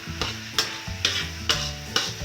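Blended spices fry in a pan while a spoon stirs them for Arabian-style rice, sharp scraping strokes repeating about every half second over a sizzling background, close and fairly loud, no speech.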